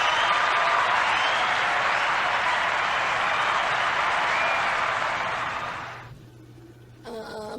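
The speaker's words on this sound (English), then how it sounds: "applause to her again" Sustained applause from a crowd fills most of the stretch, a dense steady roar of clapping that fades out near the end into near quiet.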